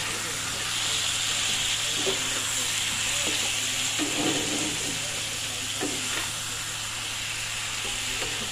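Eggplant with salt, turmeric and dry chili powder sizzles steadily in a pan, a continuous frying hiss with a few soft stirring clatters, under a low steady hum.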